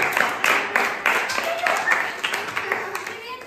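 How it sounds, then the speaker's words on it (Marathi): Children in a classroom clap for a student who solved a matchstick triangle puzzle, a scattered run of quick, fairly close hand claps mixed with voices talking over them. "सोहमसाठी एकदा टाळ्या वाजवा."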